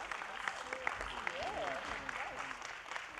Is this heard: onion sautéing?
no